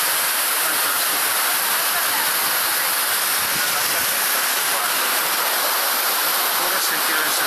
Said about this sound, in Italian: Cascate, fantastico.